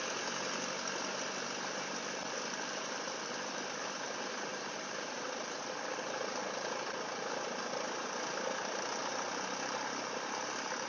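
A Cessna 172's engine runs steadily while the plane taxis at an airport, a constant dense drone with a slight rattle, no voices.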